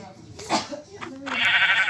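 A blocky sheep in the Minecraft video game bleats in a short, wavering cry, up close and fairly loud, with a person talking alongside it.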